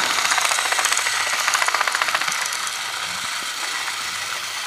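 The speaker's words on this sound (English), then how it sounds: "let's give the Plarail Ashima and my custom Trackmaster Ashima a race" Plarail and Trackmaster Ashima toy trains running along a plastic track, a close, rapid mechanical clatter of small motors and gears that eases off into a steady whir after a couple of seconds, no talking.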